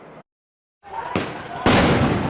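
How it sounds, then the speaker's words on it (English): Fireworks thrown during a nighttime protest outside an ICE facility in Portland: a silence followed by sharp cracking bursts that swell into a loud, dense crackle close by. "fireworks being thrown at the ICE agents"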